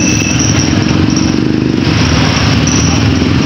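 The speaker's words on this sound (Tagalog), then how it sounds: "hintayin lang natin makalabas yung mga ibang sasakyan para makalabas tayo ng maluwag" Idling car engines rumble steadily as other vehicles pull out of a parking area after church, a continuous low mechanical drone with a faint high whine above it, no talk.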